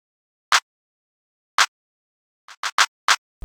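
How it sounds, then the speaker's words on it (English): A regular trap clap sample programmed in a hip-hop beat: sharp, dry claps land alone, two spaced hits followed by a quicker cluster of four, with nothing else playing between them. "then we have our clap coming in using a regular trap clap."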